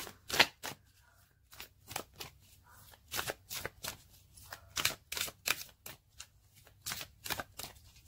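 A deck of Angels of Abundance oracle cards is shuffled by hand in quick, close riffling bursts, about a dozen crisp flutters separated by short pauses, quiet and alone.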